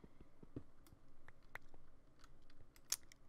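Faint, scattered clicks from a computer keyboard while a player plays Minecraft survival on a server, the irregular taps sounding quiet and close with no talking.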